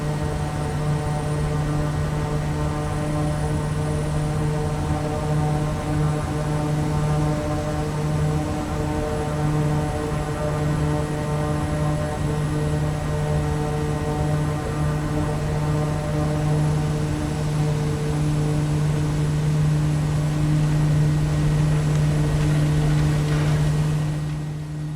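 A Kodiak 100 turboprop in a flight simulator game holds a loud, steady droning whine with strong tonal harmonics on its takeoff roll at Goroka, Papua New Guinea, swelling slightly near the end.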